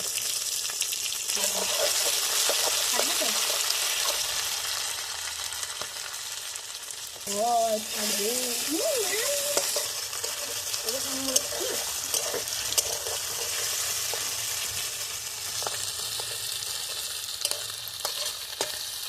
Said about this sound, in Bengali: সিম ভালো করে ভেজে নেবো আগে। এবার এর মধ্যে আমি মাছের তেলটা দিয়ে দেবো।